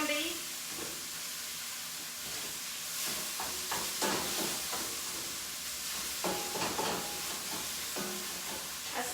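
Lean ground beef and vegetables sizzle in a dry wok with no oil, a steady close hiss broken by repeated scraping stirs, with faint talk in the background.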